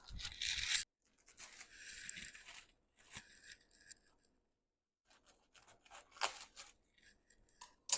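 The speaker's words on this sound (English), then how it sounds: "Let me just cut some of this off a little bit. Grab some scissors." Scissors snip and rustle through monstera leaves in several short bursts with pauses between, close and fairly quiet.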